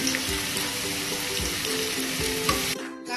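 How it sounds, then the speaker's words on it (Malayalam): Sliced onion, ginger, garlic and green chilli hit hot oil for Kerala-style chicken perattu and sizzle loudly and steadily, with a few stirring scrapes, before the sound drops away abruptly at the end. "ഇവിടെ എണ്ണ നന്നായിട്ട് ചൂടായിട്ടുള്ളതിലേക്ക് ഞാൻ ഈ അരിഞ്ഞ വെച്ചിരിക്കുന്ന സവാള, അതുപോലെ തന്നെ ഇഞ്ചി വെളുത്തുള്ളി, പിരിമുളക് ഇതെല്ലാം കൂടെ വെച്ചിട്ടൊന്ന് വാട്ടി കൊടുക്കാം"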